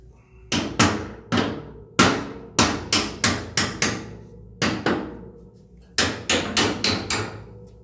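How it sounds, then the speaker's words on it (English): Hammer blows ring out while a boiler is trial-fitted for a power plant built around an 1887 Scotch Marine boiler, about fifteen sharp, close strikes in quick bursts of three to five, each leaving a short metallic ring. "Okay, get a hammer."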